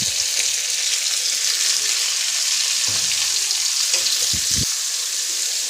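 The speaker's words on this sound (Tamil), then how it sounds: "வெங்காயம் தக்காளி நல்லா வதங்கி வரட்டும்." Onions and tomatoes sauté steadily in a pan for a Tamil-style ivy gourd stir-fry with curry leaves, giving a continuous close, even sizzle with a few soft stirring knocks.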